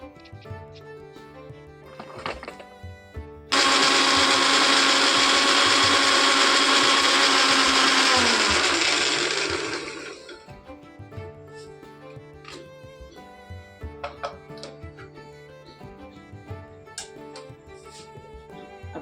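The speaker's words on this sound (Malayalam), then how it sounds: "മിക്സിയിൽ തേങ്ങ അരച്ച് വെച്ചിട്ടുണ്ട്" A kitchen mixer grinder grinds coconut in a loud whirring burst of about six seconds that winds down, set between quieter kitchen clatter.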